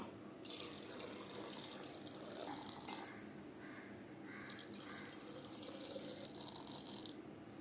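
Boiled and cooled water is poured over salted vegetables with vinegar for a salad, a close, soft splashing stream in two bursts separated by a quieter gap, with a few drips toward the end.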